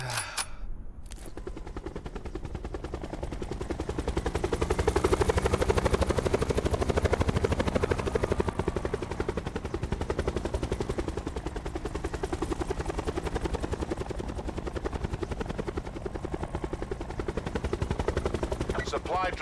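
Helicopter rotor in an online battle-royale shooter game, a steady loud droning whir running through the whole stretch, mixed with game noise and faint bursts of gunfire.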